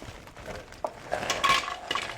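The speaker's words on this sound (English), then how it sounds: "now I'm about to dump a whole lot of frozen veggies into a bowl" Frozen vegetables tumble into a bowl with a clattery rush of hard pieces clinking and rattling, a few sharp bursts building into a loud jumble that lasts about two seconds, close up with no talking.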